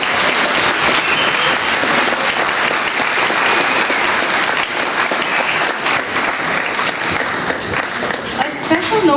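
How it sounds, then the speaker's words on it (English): An audience at a winter school music festival concert applauds young musicians, dense sustained clapping from a large crowd, loud and continuous throughout. "So a big round of applause for our musicians."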